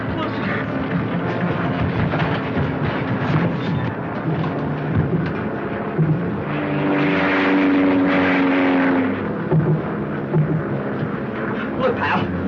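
A propeller airplane's engine drones loudly and steadily throughout, a dense, continuous roar that swells slightly in the middle.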